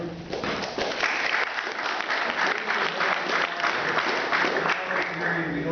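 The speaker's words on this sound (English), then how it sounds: "We don't need to have applause for either side." A crowd claps at a plan commission meeting, a sustained burst of applause from the audience that fills the room loudly, with voices mixed in beneath it.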